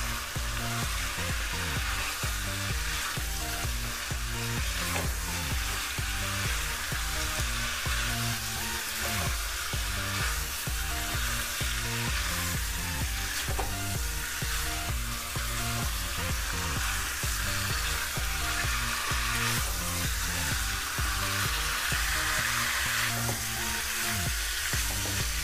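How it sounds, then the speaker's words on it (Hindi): Chicken coated with chicken masala and salt fries and sizzles in a pan as it is stirred, a steady hiss running unbroken for the whole stretch with rhythmic background music playing underneath. "इसे मिलाते हुए चिकन को 2 से 3 मिनट भुनना है"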